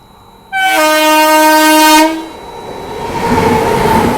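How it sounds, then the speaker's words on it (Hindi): The Madgaon Mumbai Jan Shatabdi Express sounds a loud, close horn blast of about a second and a half as it crosses, followed by a rising rumble of the passing train. "मडगांव जनशताब्दी, मडगांव मुंबई जनशताब्दी एक्सप्रेस।"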